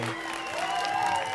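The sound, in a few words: audience applause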